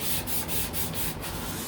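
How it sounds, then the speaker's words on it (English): Quick hand scuff sanding of a thrifted piece before wax or oil, a close rasping rub in short repeated back-and-forth strokes, about six passes, with no talking. "I'm going to go ahead and give it just a quick scuff sand here"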